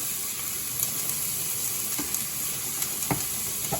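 Prosciutto frying with half a stick of butter in a pan alongside onions and garlic, a steady close sizzle with occasional sharper crackles and pops.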